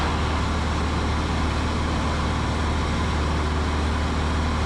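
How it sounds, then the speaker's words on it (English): Steady droning cabin noise inside an RV-10 light airplane during landing approach, the propeller whirring evenly with no break or other sound, loud and continuous throughout. "You can hear the prop spinning down a little bit as we slow the speed down."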